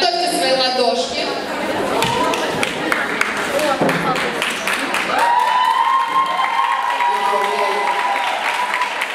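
A dance show audience applauds loudly and without a break, a dense wash of clapping with cheers and chatter mixed in, while a drawn-out shout or whoop rises above it.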